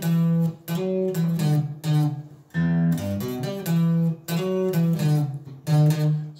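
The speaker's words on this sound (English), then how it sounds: "If you're playing clean sound or an acoustic guitar," A clean electric guitar plays a palm-muted 80s hard rock riff, in short chugging phrases with brief gaps between, close and clear with no voice over it.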